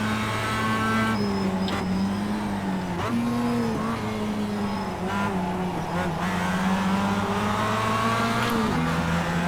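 Mazda MX-5 race cars in the iRacing sim at a rookie race start at Summit Point Raceway, engines droning and revving steadily close by, with gear shifts and fluctuating pitch across a pack of cars.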